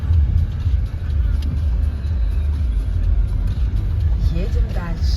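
A car travels along a road on a summer holiday drive to the sea in Russia, its steady low engine and tyre rumble filling the cabin, with a voice speaking briefly near the end.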